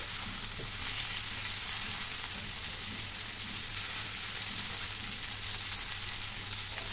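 Chowmein noodles and egg fry in a hot pan with a dense, continuous sizzle that stays steady and close throughout, with no one speaking.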